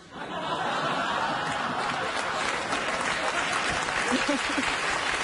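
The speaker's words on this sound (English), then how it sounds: "the audience applauded the idea of it" Studio audience applauding at a comedy talk show, a sustained, dense wash of clapping that fills the whole stretch, with a few chuckles mixed in near the end.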